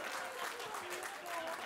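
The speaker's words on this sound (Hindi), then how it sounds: "ताली बजाओ" An auditorium audience claps in a dense, continuous wash of applause, fairly faint and steady throughout.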